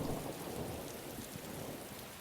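Heavy rain and thunder from a storm over a city, used as a sound effect in a narrated story: a dense, steady downpour hiss with low thunder rumbling underneath, loud and without a break.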